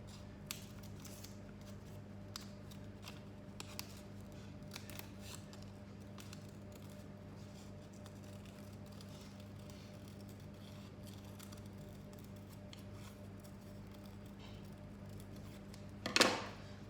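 Scissors snipping through material to cut out a shape for a DIY stocking, a string of faint, close, irregular clicks and cuts in a quiet room.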